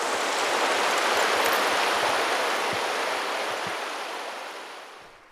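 Rapids on the Englishman River rush in a broad, steady hiss of water, loud and continuous, easing slightly toward the end.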